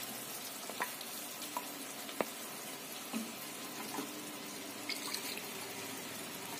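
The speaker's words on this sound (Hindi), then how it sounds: "अब हम इसमें ये पिसा हुआ मसाला को डाल देंगे।" Ground masala paste fries with potatoes and capsicum in a pan, giving a soft steady sizzle with faint scattered clicks and stirring sounds, fairly quiet and with no talk.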